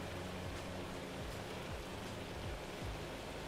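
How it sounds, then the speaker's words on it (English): Heavy rain in the farming video game Farming Simulator 25, a constant dense wash of noise with low rumbling sweeps beneath it. "Good lord, it's really raining."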